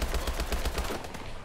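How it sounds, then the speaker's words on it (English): Rapid automatic gunfire rattles in quick, even bursts during Call of Duty Advanced Warfare Exo Zombies, loud and close before tapering off slightly at the end, with no talk. "Stop shooting, there's no one behind me."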